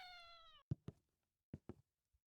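Cartoonish cat meows from a furry-themed video game, a single long tonal meow followed by four short, sharp, percussive meow-like blips in two pairs and a faint final one, clear and close against near silence.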